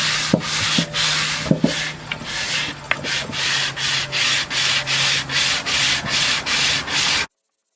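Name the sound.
sanding a wooden bowl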